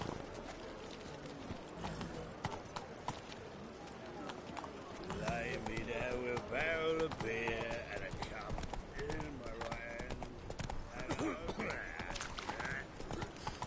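Horse hooves galloping in The Witcher 3 on PS4, a quick rhythmic clip-clop that runs steadily throughout, with voices talking over it.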